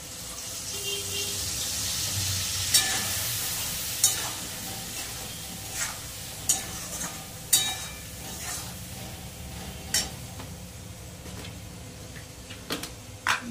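Spice paste of ground cumin, ginger and dried red chilli sizzling with fried potatoes in a pan, a steady frying hiss broken by occasional sharp scrapes and clicks of stirring.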